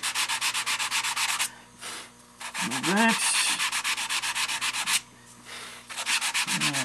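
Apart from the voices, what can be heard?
sanding a hand-laid N scale model railroad turnout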